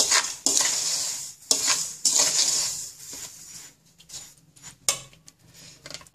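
Idli batter mixed with baking soda is stirred vigorously in a vessel, a loud wet swishing and scraping in long strokes that slows into softer, scattered clinks and stirs, close by with no one talking.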